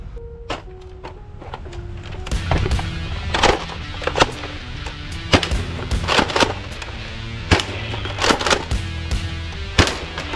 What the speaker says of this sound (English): Now sniper, long shot!